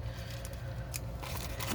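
Glue scissors trimming card packaging material, a steady crisp snipping and rustling across the short stretch with a few sharper cuts near and clear, no voices.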